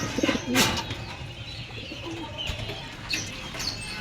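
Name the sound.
pigeons cooing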